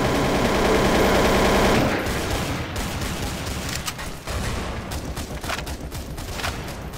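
Gunfire from the video game Counter-Strike: Source on a deathmatch server: a dense, rapid burst of automatic fire at first, then scattered loud shots and crackling bursts that continue unevenly to the end.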